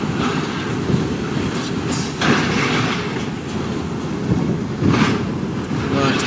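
Cab-view rumble and rattle of a Mercedes Actros HGV container truck on the docks, a steady loud broadband drone with rattling bumps throughout.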